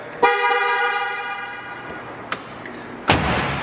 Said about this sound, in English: we need a horn over here